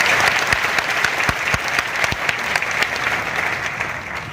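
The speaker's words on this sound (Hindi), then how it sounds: "एक बार जोरदार ताली बजने चाहिए" Audience applause fills an air-conditioned hall at a business seminar, a dense, steady roar of many hands clapping at once that holds for several seconds without talk.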